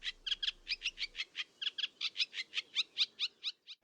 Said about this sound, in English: That's a reed warbler, a rhythmic churring rattle that chugs along steadily from deep in the reed bed